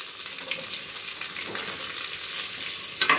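Onions fry with bay leaf and curry leaves in a pan for mushroom biryani, making a dense, close, continuous sizzle that ends with a brief clatter.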